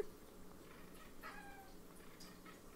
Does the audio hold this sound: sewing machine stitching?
no